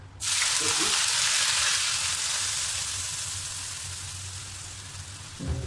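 Onion, garlic and lemongrass paste fries in a hot wok of reused potato-frying oil, a loud steady sizzle that bursts up at once, then slowly eases off, with a brief clatter near the end.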